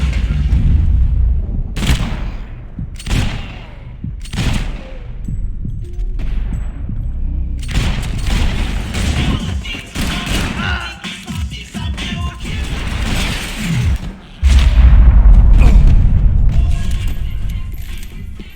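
Gunfire in the video game Max Payne 3: a string of heavy booming shots with short gaps, then denser rattling bursts and a final loud blast, close and forceful.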